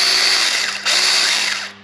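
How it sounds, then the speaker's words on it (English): A small 21-volt cordless handheld chainsaw cutting a fence post whines at high pitch, dips briefly mid-way, then revs again before winding down, close and loud with no talking. "little handheld chainsaw,"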